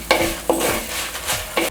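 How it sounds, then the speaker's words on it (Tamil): Lung fry sautéing in a pan with dried red chillies and spices, a steady close sizzle broken by several sharp scraping stirs of a spoon against the pan, with no talking. "ஸோ தனியாக போட்டு நல்லா வதக்கலாம்."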